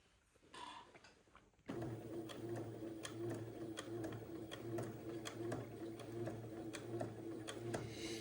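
A domestic sewing machine runs steadily as it tacks the placket of a small dress shirt, with a continuous close mechanical whir and regular ticking stitches starting after a brief pause.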